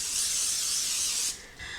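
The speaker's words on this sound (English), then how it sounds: "you just want to lightly spray a cake pan" Cooking spray hisses onto a 9x5 cake pan in one continuous, close burst of about a second and a quarter, followed by a quieter second short spritz.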